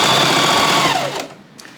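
A sewing machine stitches down bias tape with a steady, close, loud whir that slows and stops near the end, alone without talk.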